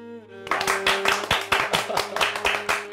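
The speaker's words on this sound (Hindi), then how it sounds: "जोरदार तालियों से आशी का आप भी स्वागत करें।" Audience at a stage event claps loudly in distinct rhythmic bursts right after a sung musical line ends, close and clear.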